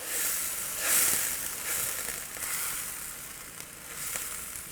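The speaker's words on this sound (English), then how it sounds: "We'll give it a stir." Maple bourbon glaze sizzles steadily in a hot pan while being stirred, a continuous close hiss with a few brighter surges from the stirring and no talking.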